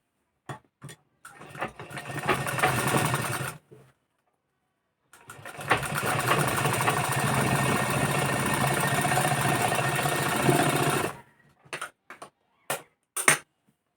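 A sewing machine stitching a blouse button strip runs in two bursts of rapid, close mechanical whirring, separated by a pause and followed by a few short clicks and taps.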